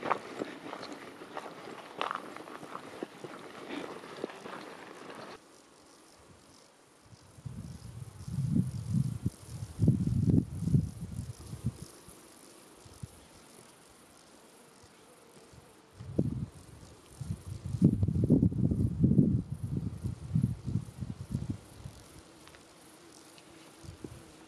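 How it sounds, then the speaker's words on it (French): Bees buzz near the trail on a summer mountain hike, low droning swells passing close in two longer bursts, with quieter rustling and outdoor ambience between. "Les abeilles au travail."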